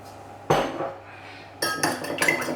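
A fork or whisk clinks against a bowl while three eggs are beaten for mini quiches, one sharp knock followed by a quick run of close, rapid tapping strokes.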